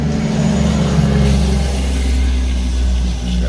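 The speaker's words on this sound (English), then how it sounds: "Got another tractor trailer." A tractor trailer truck passes by outdoors near a garden, a loud, steady low engine rumble and drone that fills the whole stretch, with a slight rise in the middle and no talking.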